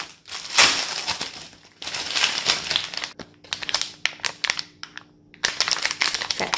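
Crinkly packaging around a heat-resistant glass teapot is torn and handled up close, with loud rustling bursts, brief pauses and quick crackling scrapes, no talking.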